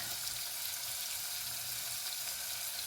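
Vegetables sweating in a pan for huevos rancheros give off a steady, even sizzle of frying that holds at the same level the whole time, close by, with no voices.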